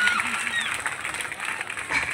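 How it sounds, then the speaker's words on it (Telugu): Audience at a government junior college foundation-stone ceremony in Huzurnagar breaking into clapping, a broad wash of applause that rises and dips over a couple of seconds. "చప్పట్లు గట్టిగా కొట్టాలి."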